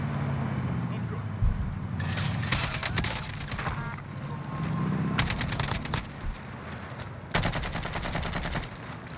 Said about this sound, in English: We're getting sniped from up the hill